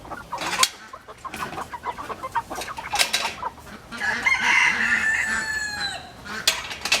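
Meat chickens cluck and squawk near the listener while being moved out onto grass, with irregular bursts of calls and one longer, louder squawk in the middle.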